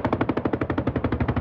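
A helicopter-mounted military chain gun fires during a live-fire drill at a Pingtung training base, a loud, close stream of rapid, evenly spaced shots, about a dozen per second, with no pause.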